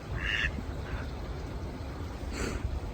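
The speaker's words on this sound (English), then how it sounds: "Lots of cute ducks here at Center Parcs." Ducks at Center Parcs Woburn Forest quack in a few short nasal calls, faint and somewhat distant, over quiet outdoor ambience.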